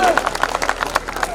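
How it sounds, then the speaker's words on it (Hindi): A brief burst of audience clapping at a mushaira, short and fairly loud, mixed with voices and crowd murmur throughout. "बस जोरदार तालियां सर के लिए।"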